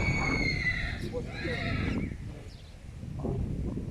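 A horse whinnies in repeated high, wavering calls at a farm camp, fairly close and loud over steady rumbling background noise, fading into quieter ambience afterward.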